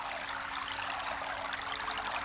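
Water flows and murmurs steadily at a natural spot ringed by peepal, banyan and other trees, a continuous close babble with no break and no voices.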